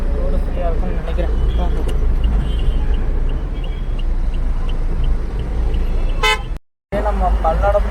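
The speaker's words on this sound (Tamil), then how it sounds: "இன்னைக்கு ஃபுல்லாக சரியான டிராஃபிக்காக இருக்குது." Heavy road traffic on a busy highway, with a constant low engine rumble, passing vehicles and repeated short horn toots throughout; a brief dropout near the end, and people talk over it.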